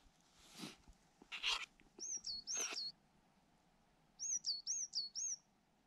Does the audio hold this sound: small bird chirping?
yes